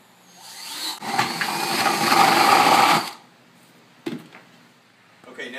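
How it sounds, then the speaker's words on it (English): A power drill with a wood spade bit bores a 1-inch hole near the edge of a plastic bucket. It whirs loudly and steadily for about two seconds, then stops, followed by a brief knock and faint handling noise. "we're going to drill a 1-inch hole near the edge of our bucket"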